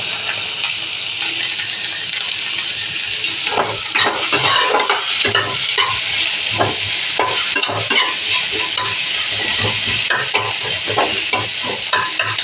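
Onion frying in a pan with a pinch of salt, steady close sizzle throughout with repeated scraping and clicking stirs from the second third onward.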